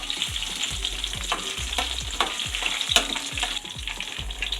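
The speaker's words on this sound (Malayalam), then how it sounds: "ഇതൊന്ന് കുറച്ച് നേരം ഒന്ന് ഇളക്കി കൊടുക്കാം." Chana dal and coriander seeds roasting in a pan while being stirred, a soft steady frying hiss punctuated by quick repeated scrapes and taps, with a low rhythmic thumping underneath throughout.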